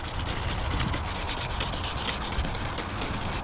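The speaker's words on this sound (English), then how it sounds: "sanding something like this made out of plastic" Close, continuous rasping as 220 grit sandpaper rubs over a plastic Camaro rear diffuser, a dense scratchy scrubbing that holds at an even level throughout with no talk.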